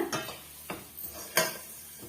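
Aval laddu mixture of flattened rice and sugar being pressed and mixed by hand in a bowl, with three soft scraping, clinking strokes spaced apart, close and fairly quiet.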